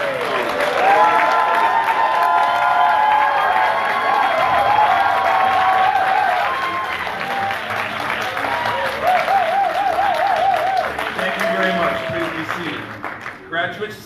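A standing audience at a 2018 career college graduation ceremony breaks into loud, sustained applause with cheering and whistles, a crowd roar that fades somewhat toward the end while a voice speaks over it.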